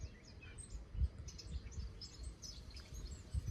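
A blackcap, a small grey warbler with a dark hood, sings short, fairly faint warbling phrases in undercliff scrub near Ventnor, under low wind rumble and without voices.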